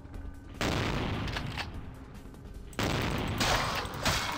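Enemies open fire in Vampire: The Masquerade – Bloodlines, a dense rattle of gunfire in two loud sustained bursts with scattered sharp cracks, close and harsh.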